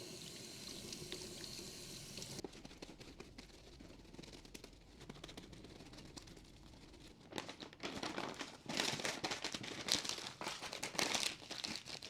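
Brisket is pulled from crinkling plastic packaging and rinsed under a cold kitchen tap, rustling wrapper sounds first, then running water splashing louder in bursts toward the end.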